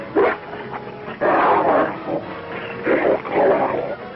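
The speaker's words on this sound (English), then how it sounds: "Killer dogs he had not yet learned to tame." Several dogs bark and yip in bursts, fairly loud and close, with short pauses between volleys of barking.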